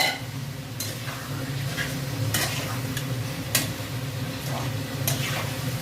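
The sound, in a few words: stir-frying potatoes with spices in a pan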